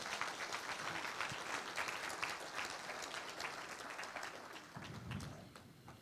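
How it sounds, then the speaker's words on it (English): At a literacy awards ceremony, an audience gives a fairly quiet but continuous round of clapping for two guests, dense and even for several seconds before thinning slightly at the end. "Applause for both of our guests."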